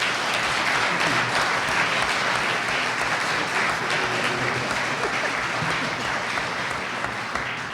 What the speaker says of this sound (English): I think we need to say thank you to them for their public service with a round of applause